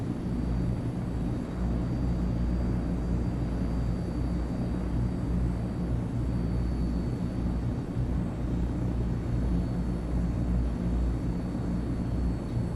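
Engines of an AzurPoly Transall C-160 military transport plane drone steadily in flight in MSFS 2024, a loud continuous low rumble with a faint high whine, no voices.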